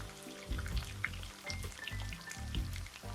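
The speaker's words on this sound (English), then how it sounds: "I'm going to heat my oil and then start frying." Quiet crackling and sizzling of oil frying in a pan, with scattered soft pops over a low background hum.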